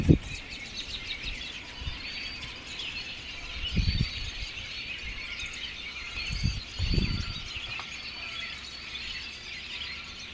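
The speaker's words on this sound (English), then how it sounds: "But that's what a whole swarm of robins sounds like." A large flock of robins and blackbirds chirps and calls from the trees in a busy, overlapping chorus, with several louder bursts of squealing calls standing out above the steady twittering.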